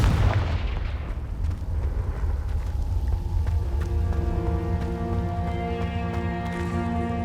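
Confringo fire spell in the Hogwarts Legacy video game bursting in a heavy, booming blast that rolls out into a long rumbling decay with a sustained tonal ringing hum, loud and close.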